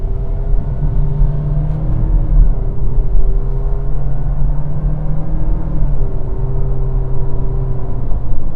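A 2022 Renault XM3 with a CVT accelerating. The engine gives a steady, droning hum with a held, rising tone that briefly steps and resumes, heard from inside the cabin with no talk.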